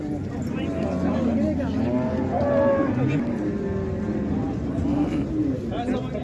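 Oxen and cattle at a busy livestock bazaar in Karshi, Uzbekistan, with a drawn-out moo under crowd chatter and bargaining voices, plus faint birds in the background.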